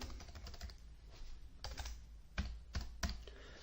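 Computer keyboard typing while a web page is edited, heard as a run of quick, irregular key clicks up close with a few sharper, louder strokes near the end and no talking.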